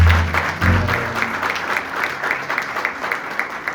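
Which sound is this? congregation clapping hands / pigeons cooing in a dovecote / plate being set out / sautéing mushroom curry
congregation clapping hands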